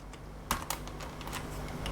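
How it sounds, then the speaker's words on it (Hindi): A computer keyboard resting on a writing pad is typed on in a quick run of light key clicks. A couple of taps land harder than the rest, and faint room noise sits underneath. "एक्चुअली मैं राइटिंग पैड के ऊपर कीबोर्ड रख के लिख रहा हूँ"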